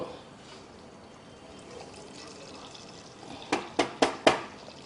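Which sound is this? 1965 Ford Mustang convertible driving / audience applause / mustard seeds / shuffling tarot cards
mustard seeds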